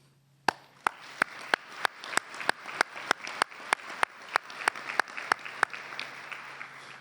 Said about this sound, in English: you too deserve a round of applause